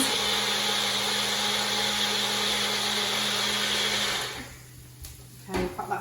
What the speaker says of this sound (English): That all goes in, and we mix that in at the magic bullet.